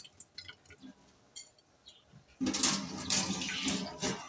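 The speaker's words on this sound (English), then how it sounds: "You have to drain all the water." Water from washed rice is poured off and drained, a steady splashing flow that starts abruptly after a few quiet seconds of faint clinks, close and moderately soft.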